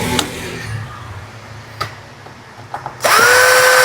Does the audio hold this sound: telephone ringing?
no